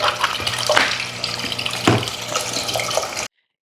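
Water pump and mister splashing and gushing in an overfilled Halloween cauldron, a steady close wash of running water with brief surges, alone without talk before cutting off abruptly.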